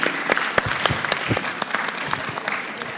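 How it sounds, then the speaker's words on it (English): Warm applause from a conference audience for panelists and speakers, sustained clapping from a moderate crowd with some sharper individual claps standing out. "I would like to share with you a warm round of applause for our distinguished panelists and speakers."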